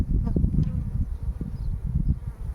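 Anatolian honey bees of the Bilecik ecotype buzz up close at an open hive, a dense, low, wavering hum that swells and dips throughout with no talk.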